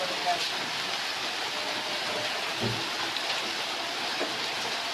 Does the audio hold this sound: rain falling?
yes